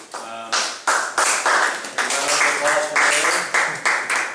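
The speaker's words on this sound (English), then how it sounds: "Slow clap, you got a slow clap?" Hands clapping slowly at a referee meeting, roughly eight or nine sharp, evenly spaced claps over a few seconds, close and fairly loud, with voices talking over and between them.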